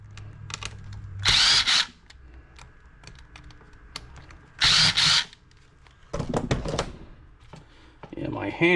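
A power drill backs screws out of a rain-damaged Logitech speaker's plastic housing, with two loud, short whirring bursts and a longer third run, separated by light clicks and handling noise.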